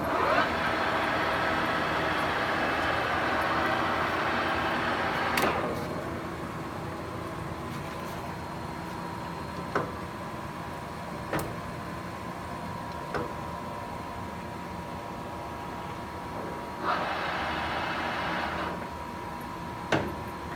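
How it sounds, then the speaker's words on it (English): A 20 horsepower, dual-voltage main drive motor running on 440 volts powers a 1981 Summit 32-inch by 20-foot engine lathe. It gives a steady mechanical hum, dotted with sharp clicks and a louder rushing burst at the start and again later. "It's a 20 horsepower main drive motor, dual voltage 220 or 440, currently running on 440 volts."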